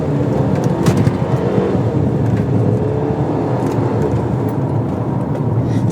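A Mercedes-Benz GLA 250 in sport mode accelerates hard from inside the cabin, its engine note rising as a steady, moderately loud roar and road rumble.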